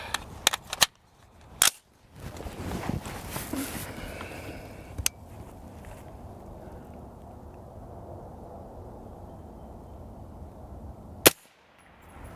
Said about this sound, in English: it's also nice to know where the gun shoots with and without a suppressor